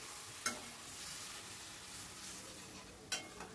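Potatoes cooking with spices in a pan, a soft continuous sizzle with two brief spoon scrapes against the pan, quiet and close without any talking.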